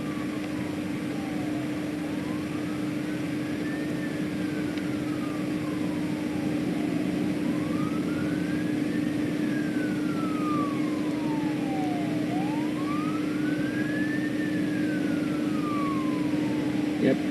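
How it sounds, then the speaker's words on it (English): Fire engine sirens wail during a wildfire with houses burning, rising and falling in long slow sweeps at a moderate distance over a steady low engine drone. "you can just now hear the sirens."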